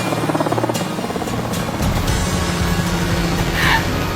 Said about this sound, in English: Load the helicopters and fly them out.